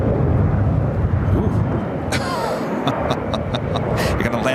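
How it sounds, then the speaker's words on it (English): An Embraer E-Jet airliner lands at Los Angeles International Airport in strong winds, a loud, constant roar of engines and wind with a few sharp clicks late on, while a voice talks over it. "Not a great landing on for that E-Jet."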